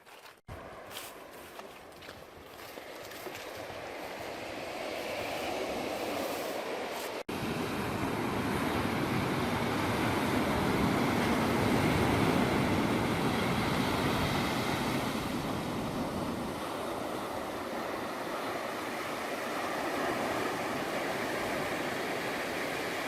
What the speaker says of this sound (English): I finally can hear the ocean